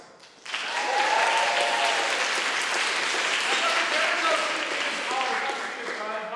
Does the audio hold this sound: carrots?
no